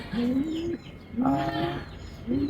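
At the loft, a racing pigeon arriving from a 612-kilometre race gives soft, close cooing calls: two drawn-out coos with a brief pause between them, then the start of a third.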